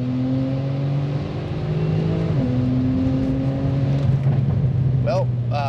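A Porsche 991 Turbo tuned with a Cobb Accessport accelerates hard in second gear from about 2,500 RPM, its engine note climbing steadily and loud from inside the cabin, with a brief gearshift-like dip partway and a voice exclaiming near the end.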